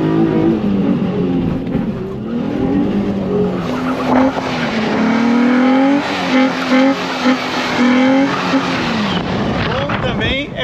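A Mustang 350 doing donuts, its tires squealing in long wavering screeches over a revving engine, loud and close, with people talking over it.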